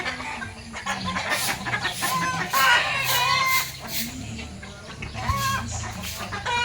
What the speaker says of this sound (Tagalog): Check the chicken. They're very active this morning.